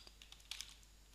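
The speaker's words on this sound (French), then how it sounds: "je suis dans Google, je vais taper" Quiet computer keyboard typing a search query, a short run of light, irregular key clicks with one slightly louder burst in the middle, close but faint and without voices.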